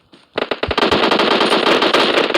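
Rapid automatic gunfire rattles loud and near in a video game, after a few sharp single shots at the start.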